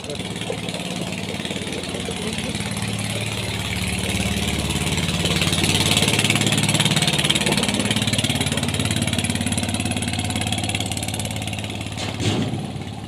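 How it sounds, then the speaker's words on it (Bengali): A river boat engine, a speedboat or trawler, drones loudly and steadily at close range, swelling slightly midway. "ওটা কি স্পিড বোট না ট্রলার?"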